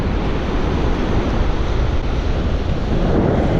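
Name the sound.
strong wind blowing on a beach after a storm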